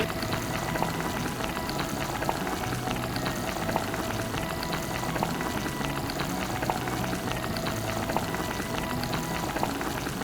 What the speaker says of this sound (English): And we're gonna boil this for another 5 minutes.